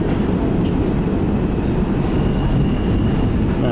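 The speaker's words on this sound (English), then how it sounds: "across that train over there is an E train" A New York City A train rumbles through the underground subway, a steady, loud roar of wheels and rails with a constant low grinding hum and no breaks.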